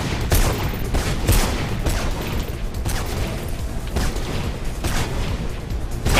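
Enemy gunfire in the video game Mirror's Edge, a steady run of rapid shots and bangs that continues throughout at fairly loud level, with almost no talk.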